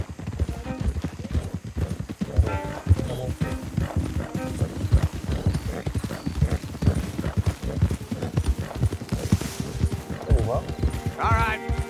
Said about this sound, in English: Don't want the horses clopping around outside the window.